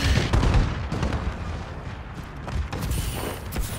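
Bombing run explosions and rumbling blasts in the Call of Duty: Advanced Warfare video game, heavy low booms rolling continuously with scattered sharp cracks, loud and close, with no speech.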